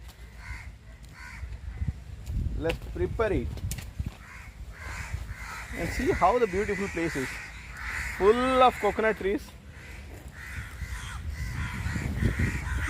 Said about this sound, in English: Lot of crows here